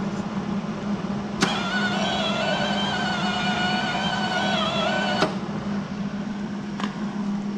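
A worn MIG welder torch whirs as its wire feed motor runs, the whine rising and falling in speed for a few seconds between sharp clicks, in a quiet shop.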